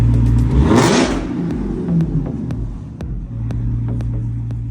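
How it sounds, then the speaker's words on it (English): A Dodge Challenger Hellcat SRT's engine revs hard nearby, one loud climbing roar that falls back into a deep, rumbling idle with sharp crackles. "Give a rev."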